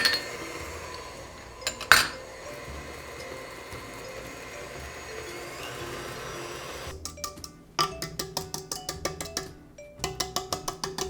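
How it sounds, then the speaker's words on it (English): An electric mixer beats aquafaba and vanilla into vegan cookie dough in a bowl, with a quiet hum first, then rapid rhythmic clattering bursts of the beaters against the bowl. "Now I'm going in with my aquafaba, which is the egg replacer, and the vanilla, and just beating that until smooth"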